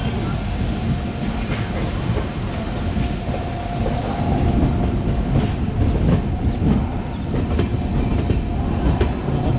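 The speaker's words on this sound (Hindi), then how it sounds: "दो वैगनाइन एक लोकल ट्रेन को खींच रहे हैं" A heavy local train pulled by two locomotives rolls by close and loud, a deep continuous rumble with rhythmic wheel clatter and faint metallic squeals throughout.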